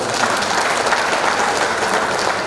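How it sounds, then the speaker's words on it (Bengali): A crowd of business partners at a computer-brand partner meet claps together, a dense, steady burst of applause filling the hall without speech. "সেই জন্য আমারও একটা তালি আশা করতে চাই"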